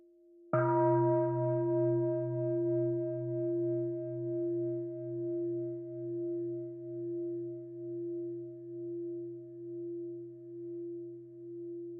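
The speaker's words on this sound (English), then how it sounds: "Can we listen to one sound of the bell?" A single strike of a mindfulness bell rings out clearly, then sustains with a long, slowly pulsing decay that fades gradually over many seconds in a quiet room.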